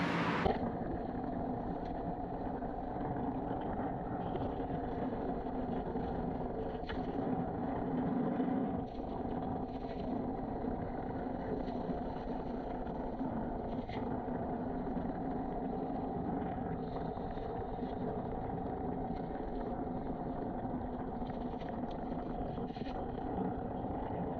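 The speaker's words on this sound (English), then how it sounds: "if we go turn the pump on, we'll be ready to vacuum the pool" A swimming pool pump runs with a steady, even mechanical hum and whoosh of circulating water, continuous and unchanging throughout, with no voices.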